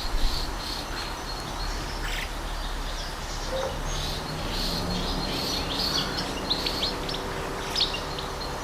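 Many small birds chirp and tweet in a busy, overlapping chorus of short high calls, fairly close, with insect buzzing in the background and no talk.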